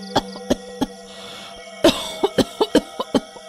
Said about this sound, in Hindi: पर खांसी ने तो सांसें ही उखाड़ दी